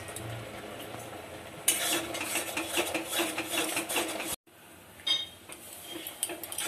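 Sweet laddu mixture is stirred in a pan, with scraping, rustling and clinking of the spoon against the metal in steady bursts, a brief break, then more stirring and a few sharper knocks.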